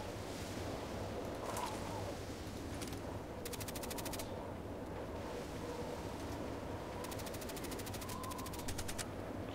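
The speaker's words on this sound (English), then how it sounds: "Shooting from the left, I would say." Automatic gunfire from the video game Contract Wars, on the Site map, comes in several short rattling bursts over a constant windy ambient bed, with a few single shots between the bursts and no talking.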